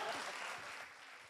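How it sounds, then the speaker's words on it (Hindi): Brief burst of applause from a crowd, steady clapping that softens slightly toward the end, with faint voices mixed in. "अरे हाँ तालियां मारो भैया"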